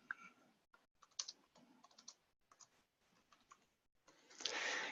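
Text is typed on a computer keyboard, a quiet irregular run of close key clicks in short bursts, ending in a louder rustling noise.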